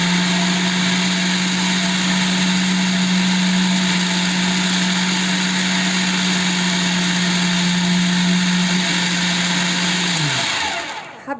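An electric food processor mincing half a kilo of beef runs as a loud, steady high whine with a strong low hum, then spins down and stops near the end.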